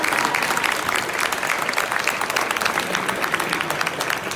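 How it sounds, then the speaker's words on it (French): Steady, dense clapping from a crowd at a burger competition final in Paris, sustained and even throughout, heard from within the audience. "un tonnerre d'applaudissements pour les 5 candidats"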